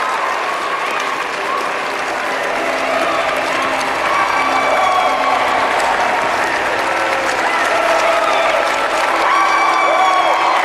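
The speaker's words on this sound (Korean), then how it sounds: "관객들은 오히려 뜨거운 박수를 보내기" A theatre audience in a film bursts into enthusiastic applause with some cheering. The dense, continuous clapping from a large crowd holds strong and loud for the whole stretch, and scattered voices sound beneath it.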